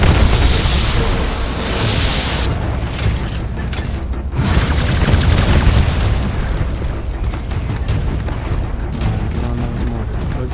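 Heavy booms and bursts of gunfire from mortars and weapons in a Frontier Defense battle on hard difficulty, loud and dense with repeated blasts and crackling fire throughout, some faint voices underneath.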